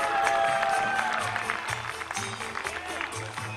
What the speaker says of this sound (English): A round of applause for my examination committee.